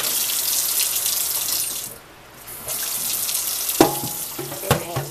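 Tap water runs steadily into a cooking pot at a kitchen sink while making potato salad, a loud continuous rush that drops away briefly, then resumes with clinks and knocks of the pot near the end.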